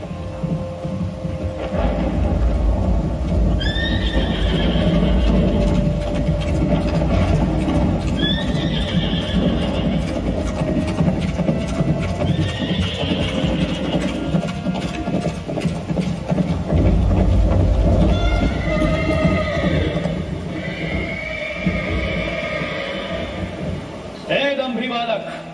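A horse, the one set loose for an ashvamedha sacrifice, whinnies in several loud, rising neighs amid clip-clopping hooves and a low hum, while someone talks throughout.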